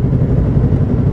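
A Ninja 650 motorcycle engine rumbles steadily and loudly up close, a low, even idle with no talk over it.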